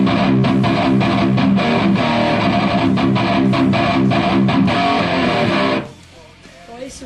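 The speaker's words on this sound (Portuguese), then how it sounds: "Esse é o som do ampli, é o drive do ampli" An electric guitar through a tube amplifier with drive plays loud, dense distorted riffs with rhythmic chugging, then cuts off abruptly near the end, leaving a faint tail.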